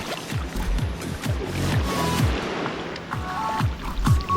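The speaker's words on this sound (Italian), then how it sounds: "si prende la pagaia e si fa qualche metro per andare avanti" Kayak paddling on the sea, a sit-on-top kayak being stroked forward through shallow water, with steady rhythmic paddle strokes, splashes and water swirling close by.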